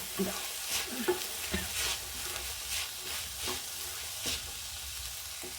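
Cabbage and green pea fried rice being stirred in a pan with salt and chilli sauce, a soft steady sizzle broken by repeated scraping and tossing strokes, fairly quiet and close.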